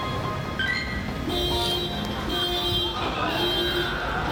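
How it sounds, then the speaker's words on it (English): Cars pass by on a street beside a sidewalk, giving a steady wash of traffic noise with tonal whines and a faint horn-like toot in the background. "on the sidewalk, so you can hear cars"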